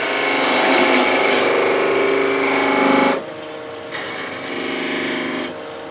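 A continental spindle gouge cuts into a wooden bowl spinning on a lathe, giving a steady, loud, close scraping hiss that breaks off abruptly, then resumes at a lower level before a second pause.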